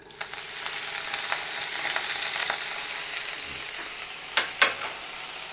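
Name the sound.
chopped banana flower added to hot pan, frying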